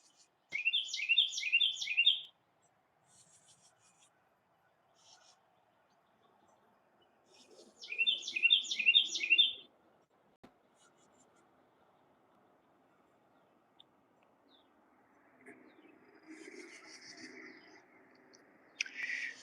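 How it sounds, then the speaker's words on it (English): Birds chirp in a garden in two quick bursts of rapid, high trilling notes, with faint scattered calls in between and softer twittering near the end, against an otherwise quiet background. "It sounds like the bird's getting ready for a party or something."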